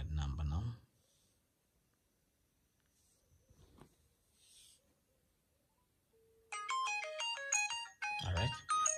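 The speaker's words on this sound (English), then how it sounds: "Okay, I'm calling that number now." A smartphone rings with an incoming call after a mostly quiet stretch, its melodic ringtone tones starting partway through and repeating loudly and close, with brief handling noise at the start and end.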